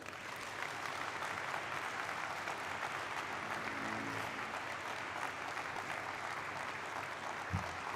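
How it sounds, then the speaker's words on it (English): Steady, fairly quiet applause from an audience at a company stock listing ceremony honoring Mr. Sanjay Sharma, a continuous wash of clapping lasting several seconds without speech. "Yes, a big round of applause for Mr. Sanjay Sharma"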